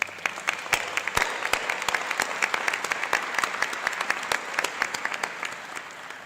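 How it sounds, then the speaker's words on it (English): Crowd applause at a business college convocation for graduates' families and friends, dense, steady clapping from a large audience in a hall, with a few sharp louder claps standing out. "graduates, please join me in giving your families and friends a well-deserved round of applause"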